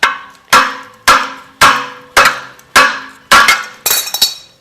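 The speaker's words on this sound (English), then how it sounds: "smash it with a hammer" Seven heavy hammer blows strike a stuck engine pulley on a Cummins engine at a steady pace, each ringing briefly with a metallic clang; close and loud, with no talking.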